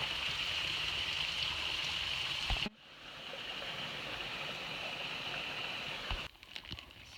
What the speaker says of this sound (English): I'm literally walking in the creek